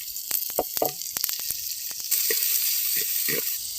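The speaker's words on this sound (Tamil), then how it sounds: "இது ஒரு 2 நிமிஷம் வதக்கியாச்சு" Carrots and beans sizzle steadily in a hot pan, with a few sharp crackles and scraping stirs over the continuous frying hiss.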